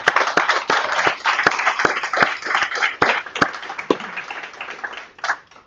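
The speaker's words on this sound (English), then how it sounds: "So give them a warm hand of applause" Applause at the Rust Munich 2024 meetup for the event hosts: a smaller crowd clapping in sharp, distinct claps that stay lively, then thin out and fade near the end.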